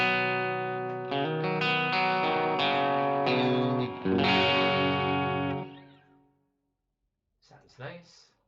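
A sustained, distorted electric guitar chord rings out through a room reverb effect on an HX Stomp, with a roomy wash, then decays to silence before a voice briefly speaks.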